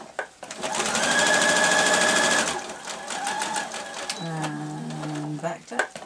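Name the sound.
sewing machine stitching fabric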